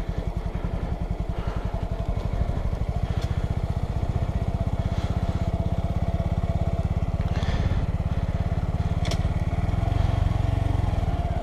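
A small motorbike engine runs without the clutch, a loud, close, rapid putter that rises and falls, with clattery mechanical noise and brief louder bursts.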